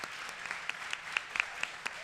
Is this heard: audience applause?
yes